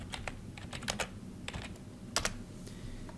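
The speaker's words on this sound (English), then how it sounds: "You can type in your keywords." Keys clatter on a computer keyboard as keywords are typed into a library search bar, a quiet, irregular run of close clicks with short pauses between bursts.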